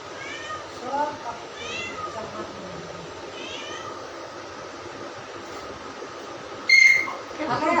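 A cat meows a few times, soft and drawn out, with a quiet background hum and a brief clatter near the end.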